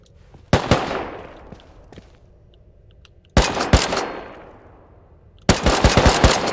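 Automatic weapon fire in the survival game Rust comes in three separate loud bursts of rapid shots, each fading into a brief echoing tail before the next volley.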